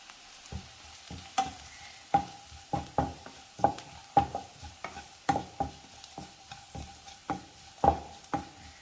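Sliced onions softened in a pan with crushed dried red chili, stirred in a steady run of sharp scraping strokes over a faint low sizzle, close and alone with no talk.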